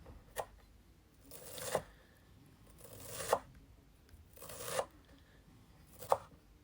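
Steady knife chops through dill on a cutting board, one crisp stroke every second and a half, quiet and close with no talking.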